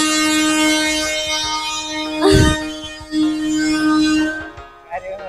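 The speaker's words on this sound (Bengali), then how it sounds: "তো ট্রেন কিন্তু ছেড়ে দিয়েছে, আর পাশে ট্রেন যাচ্ছে" A train rumbles past at Santahar railway station with a loud, sustained horn blast and a burst of rushing noise midway, amid station bustle and distant voices.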